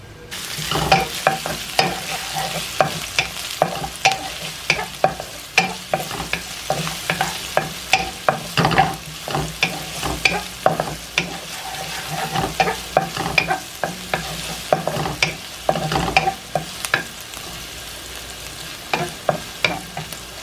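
Chile browns in a frying pan with a sizzling crackle, while frequent rhythmic scraping strokes of stirring mark the sound, close and fairly loud throughout, with no speech.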